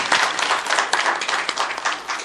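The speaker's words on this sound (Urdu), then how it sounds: "ایک بار ان کا استقبال زوردار تالیوں سے کیا" An audience at an Urdu mushaira in Bangalore claps steadily to welcome a poet, a dense continuous applause heard up close with no talk over it.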